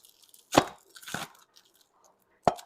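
A Dalstrong Quantum 1 cleaver chops the ends off something on a cutting board, giving three sharp, close knocks spaced apart, with faint handling sounds between them.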